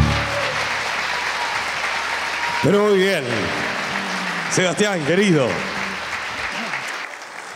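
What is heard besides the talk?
audience applause for a performer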